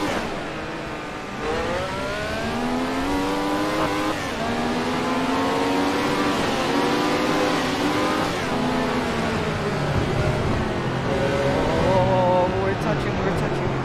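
A race car engine in the Assetto Corsa racing game revs up and down in repeated climbing sweeps, loud and close, with voices talking over it at times.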